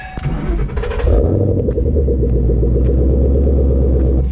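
A Ford Mustang GT engine cranks and catches, then settles into a loud, deep, throbbing idle close by.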